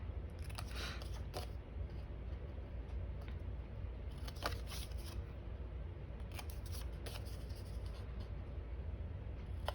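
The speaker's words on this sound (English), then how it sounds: "I like to snip off the little ends here" Scissors snip the small ends off paper tags for a journal, making faint, sparse clicks and short cuts against a quiet background hiss.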